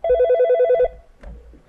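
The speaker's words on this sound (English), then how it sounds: "Max, I've got a call coming in." An incoming call sets a telephone ringing in a live-stream studio: one loud, close burst of rapid warbling trills lasting under a second, followed by faint low sounds.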